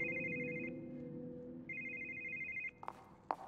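A telephone rings in The Evil Within horror game, two trilling electronic bursts separated by a pause over a steady low ambient drone, then a couple of sharp knocks.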